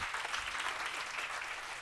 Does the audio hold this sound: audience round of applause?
yes